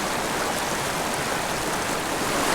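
Flowing water of a small creek with fishing pools, a steady, even rushing and babbling that fills the whole clip at moderate loudness, alone without speech.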